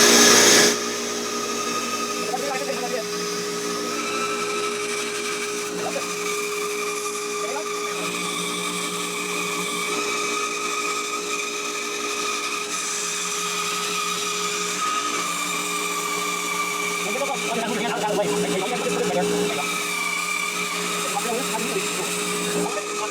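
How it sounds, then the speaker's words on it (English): A bandsaw rips straight lines through guitar wood in a long, steady, loud whine that holds at an even pitch, with a low whir underneath and a brief swell in the cut near the end. "you can make really good straight lines on a bandsaw too"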